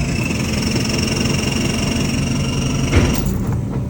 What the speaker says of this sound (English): the starter motor trying to spin the motor